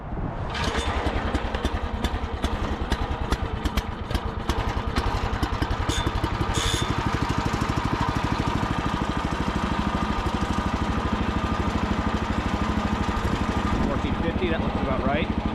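Repowered engine on a Gravely Model L walk-behind tractor starts up and runs, a loud, close, rapid chugging putter with clattery bursts early, settling into a steady idle; voices are also present.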